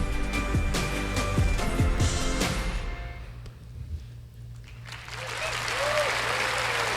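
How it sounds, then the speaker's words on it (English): A crowd applauds with dense, steady clapping that fades and swells, with some voices and murmurs mixed in. "And some applause from the, well, maybe not so much from the press corps, but some."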